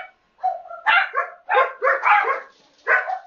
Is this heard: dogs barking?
yes